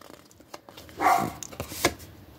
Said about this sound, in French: je ne sais pas si vous entendez le petit chien